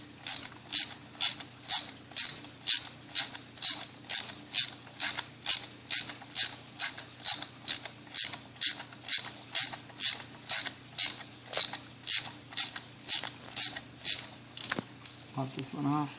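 A ratchet loosens a spark plug on a 2012 Chevy Cruze LT. It gives a long, steady run of about thirty crisp, evenly spaced clicks, close up and alone, then a brief clatter at the end.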